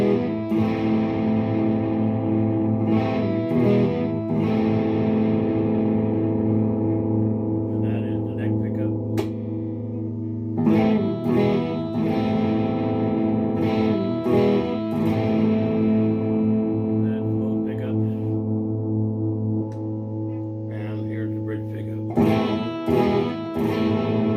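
Epiphone 60's Les Paul electric guitar with a dirty, distorted amp tone playing a song: chunky, crunchy chords and riffs with sustained ringing notes, loud and close, continuous through the passage.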